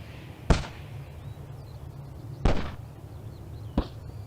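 Heath plant seed pods bursting on a quiet moor, three sharp isolated pops spaced a second or two apart over a faint, still background.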